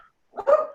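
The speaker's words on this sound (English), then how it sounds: "sorry about my dog." A dog gives one short, close bark, loud and abrupt against otherwise quiet surroundings.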